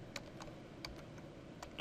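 Someone types a ping command on a computer keyboard, giving a few quiet, scattered key clicks close by over a faint room hiss, with no talk.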